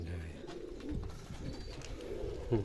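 Pigeons kept in a coop coo softly in low, rounded calls, with a few repeated coos close by against a quiet background.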